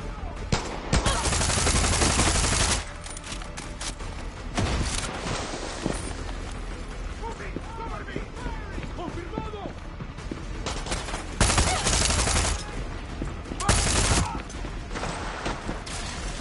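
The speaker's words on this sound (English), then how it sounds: "Shooting at me." Enemy gunfire in Far Cry 6 comes as several loud bursts of rapid automatic fire separated by quieter stretches of movement and footsteps, with someone talking in between.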